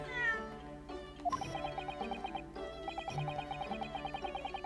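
A cat meows in The Great Ace Attorney video game, a few clear mews standing out over a steady, tinkling game music loop, with no one talking.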